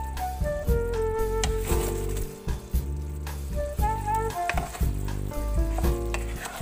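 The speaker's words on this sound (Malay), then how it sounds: "Kita gaul bagi sekata supaya gula-gula ni semuanya melekat pada kuih-kuih ni ya." Sweet potato balls being stirred through thick, bubbling palm sugar syrup in a pan, giving a loud, continuous sticky sizzle and wet squelching with the stirring, while music plays over the whole passage.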